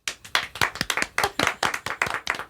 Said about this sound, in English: I think I should get applause for that.